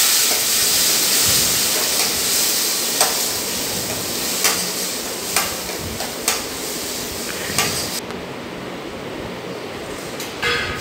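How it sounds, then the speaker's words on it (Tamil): Tomatoes sautéing in a pan for tomato kurma, a steady close hiss of frying with occasional sharp clicks from stirring, no voices. "அடுத்து தக்காளி போட்டுட்டு இது நல்லா சாஃப்ட் ஆகிற அளவுக்கு நம்ம வந்து வதக்குவோம்."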